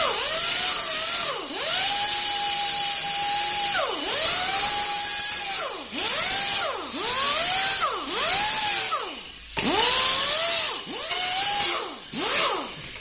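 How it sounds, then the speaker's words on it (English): A belt sander works the corners of a Wessex mower deck during restoration, giving loud, repeated whining bursts whose pitch dips and climbs as the tool is pressed and lifted, with no voices. "I want to belt sand now, the corners, that I couldn't get with the sander."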